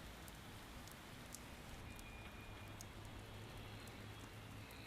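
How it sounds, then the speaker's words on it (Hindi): Heavy rain falls steadily throughout, a dense continuous wash of drops drumming on surfaces, with a low rumble underneath and no voices. "बारिश बहुत तेज हो रही है"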